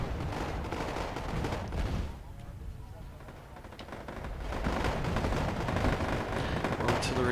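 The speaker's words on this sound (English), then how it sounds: "Artillery being fired." Artillery and gunfire in the video game Wargame AirLand Battle during a clan tournament match: dense, continuous rumbling bursts and crackles of battle, easing off briefly in the middle before swelling again.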